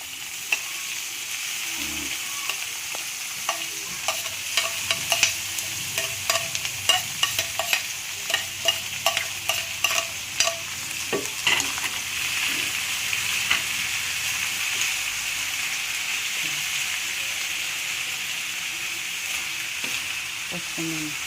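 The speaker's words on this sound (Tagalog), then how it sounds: "At gisa na natin ang ating isda." Fish sizzles and fries in a pan for kinunot, a steady crackling hiss with a utensil knocking and scraping intermittently as it is stirred, close and continuous.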